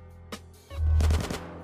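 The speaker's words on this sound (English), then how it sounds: "Oh shit, are those gunshots?" Gunfire in the video game GTA San Andreas during a gang fight on a bridge: a couple of quick pops, then a short burst of rapid shots, fairly faint and alone.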